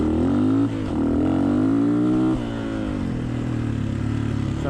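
Honda XLR125R single-cylinder motorcycle engine with a Chinese CDI fitted, revved up and held at high revs, then dropping back to a lower steady run, close and loud.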